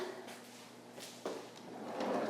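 A kitchen drawer slides open or shut during a deep clean and organizing session, heard as a soft thud followed by a low rumbling slide, fairly quiet and close, with no voices.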